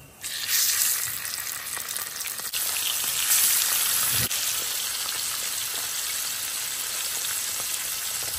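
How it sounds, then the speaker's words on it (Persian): Fish sizzling in hot oil with turmeric, a steady crackling hiss that jumps louder as pieces go in, with a faint clunk partway through. "حالا ماهی ها رو بهش اضافه میکنیم"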